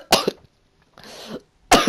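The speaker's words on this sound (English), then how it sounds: "Started to cough." A person coughs in three separate bursts, the first and last sharp and loud, the middle one softer and more drawn out, with silence between them.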